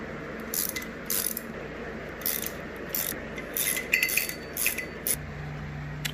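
A ratchet clicks in short, uneven bursts while spark plugs are loosened from a Honda K20 engine, the pawl's rapid ticking close and fairly quiet over a low background hum, with no speech.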